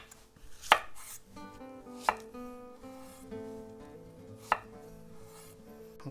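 A knife chops zucchini on a cutting board for a vegan vegetable curry: three sharp, distinct cuts a couple of seconds apart, close and crisp, over steady background music.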